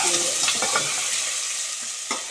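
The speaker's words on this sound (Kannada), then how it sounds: "ಈರುಳ್ಳಿ ಹಾಕ್ಬಿಟ್ಟು ಆಲೂಗಡ್ಡೆ ಹಾಕೊಂಡು ನೋಡಿ ಆಲೂಗಡ್ಡೆ ಆಲೂಗಡ್ಡೆ ಸ್ವಲ್ಪ ಹಣ್ಣಾಗಿ ಹುರ್ಕೊಂಡ್ಬಿಡ್ಬೇಕು" Potatoes and onions fry in a pan, a steady close sizzle broken by several scraping stirs of a spoon, with no voices.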